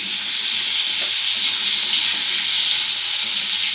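Small diced potatoes fry in hot oil in a wok, giving a steady, loud, broadband sizzle that runs unbroken and close throughout, with no talk.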